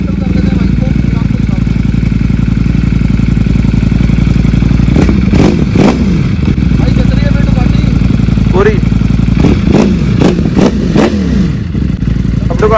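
Loud, steady motorcycle engine running throughout from a Ducati fitted with an aftermarket exhaust, with a couple of sharper revs and clattering bursts near the middle and end, while people talk over it.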